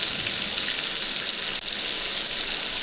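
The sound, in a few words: spices with ginger paste frying and being stirred in pan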